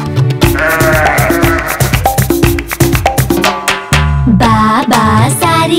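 Black sheep in a Hindi children's nursery rhyme, heard as repeated short bleats over a bouncy, loud musical accompaniment with a melody line, continuing steadily throughout.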